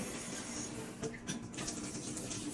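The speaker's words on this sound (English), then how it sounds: "Water on." Water runs steadily from a tap into a sink as a broad, even hiss. A few brief clatters and splashes break the flow partway through, and no one speaks.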